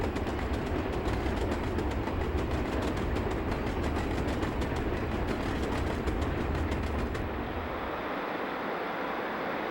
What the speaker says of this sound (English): Alco PAs pulling nickel plate train number 7, the Westerner, over C&O and NYC diamonds.